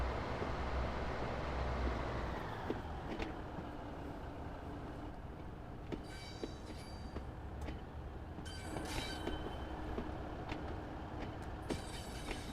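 A diesel locomotive in the Train Sim World 6 railway game, on the West Coast Main Line from Preston to Carlisle, rumbles with a steady low throbbing engine thrash, punctuated by periodic clicks and clanks of the rails.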